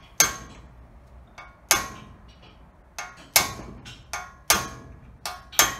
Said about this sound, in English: Now we're going to dimple this thing.